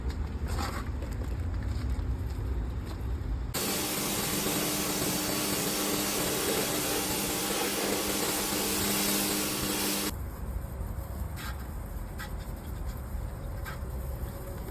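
A water spray rinses down the side of an RV during a wash, a loud, steady broadband rush lasting several seconds that cuts in and off abruptly between quieter stretches of background noise.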